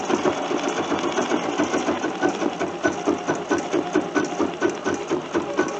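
A sewing machine stitches a kitchen towel at a moderate, less-than-full speed, making a steady rapid mechanical whir with an even pulsing rhythm, close up and without talk.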